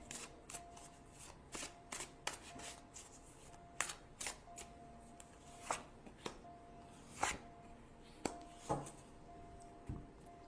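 Tarot cards are handled and picked from a deck, giving soft papery flicks and snaps at an irregular pace, close and quiet, with no talk over them.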